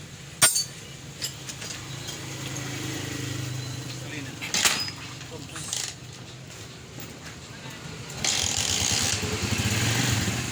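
A Rusi 175 motorcycle with repaired grounded wiring and a faulty CDI tries to start through scattered clinks and knocks, then its engine catches and runs steadily and fairly loud for the last couple of seconds.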